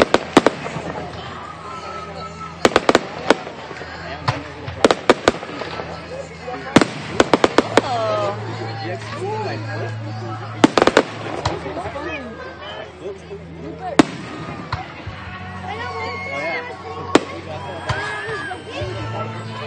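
Fireworks burst at La Puente Park, sharp cracks and booms popping irregularly over a long stretch, with crowd chatter and nearby voices talking throughout.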